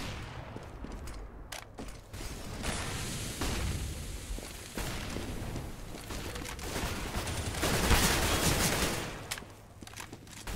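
Dense, continuous gunfire from a professional Counter-Strike league match, with rapid overlapping shots and bursts running throughout at steady loudness and no talk.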